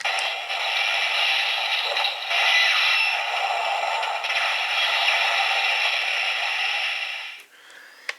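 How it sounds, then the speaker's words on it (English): Kamen Rider Ghost DX Sunglasseslasher toy sword repeating its special attack sound after a trigger pull: a sustained harsh, crackly electronic effect from a small toy speaker, close and loud, ending with a faint click. "If you pull the trigger again, it'll repeat that special attack sound."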